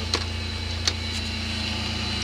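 A car engine idles high in steady, even tones with a faint rhythmic pulse. It stays at one level throughout, with a couple of brief light clicks and no talking.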